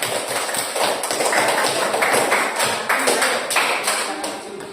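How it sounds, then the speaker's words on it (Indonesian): Students in a classroom clap for a presenting group, a steady patter of many hands with individual taps standing out, fairly close and continuous throughout. "Nah, tepuk tangan"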